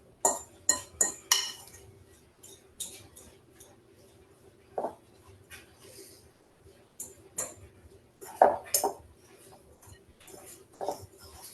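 Ingredients being stirred in a bowl with a utensil before baking, giving scattered light clinks and scrapes, a quick cluster at the start and sporadic taps after, close but quiet with no talk.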